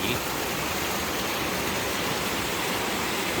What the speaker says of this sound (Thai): มีเสียงน้ำไหล